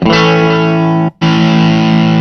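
Electric guitar through a ZOOM multi-stomp pedal switched remotely by MIDI, a loud sustained distorted chord that cuts out briefly for a moment as the patch changes, then rings on with the distortion tone.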